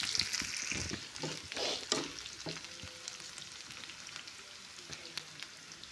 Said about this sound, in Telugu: సన్నగా తరిగిన ఒక ఆనియన్ తీసుకొని ఆనియన్ కూడా బాగా ఫ్రై చేసుకోండి ఫ్రెండ్స్